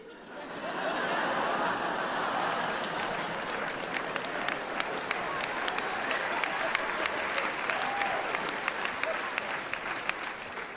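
A comedy club audience at a stand-up show breaks into sustained, steady applause that fills the room for the whole stretch, with faint laughter mixed in.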